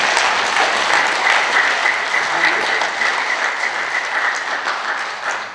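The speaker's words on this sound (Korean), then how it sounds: "우리 자랑하는 백장군한테 박수 한번 주세요" An audience at a lecture on General Paik Sun-yup's wartime leadership breaks into sustained applause, a dense, steady wash of clapping that holds strong throughout and tapers slightly at the end, with no voices over it.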